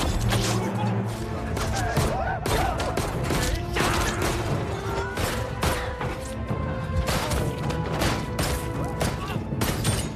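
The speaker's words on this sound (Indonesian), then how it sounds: "Lalu dia menodongkan bedil ke lehernya dan menembak semua orang di sana." Film gunfire as a gangster shoots everyone in a restaurant: a dense, continuous barrage of loud shots and crashing impacts. It runs without pause for about ten seconds.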